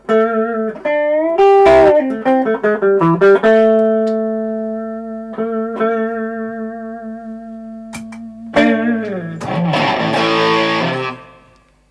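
A Les Paul electric guitar fitted with a Peter Green out-of-phase switch plays loud chords and single notes, first a quick strummed flurry, then a long sustained ringing chord, then a burst of distorted, hollow, out-of-phase tone.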